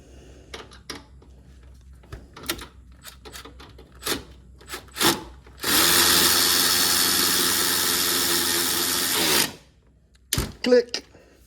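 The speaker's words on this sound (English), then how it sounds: "Let's try the ratchet." Ratchet tightening an inverted hex bolt on a motor mount underneath a Mini Cooper S R53, a sustained loud whirring burst of about four seconds between scattered short clicks and knocks.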